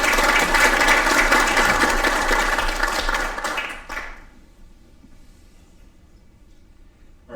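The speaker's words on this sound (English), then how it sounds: "Please give them a round of applause." Audience applause at a State of the City address, a dense burst of clapping from the crowd that holds for several seconds and then quickly dies away into a quiet room.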